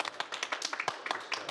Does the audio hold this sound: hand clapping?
yes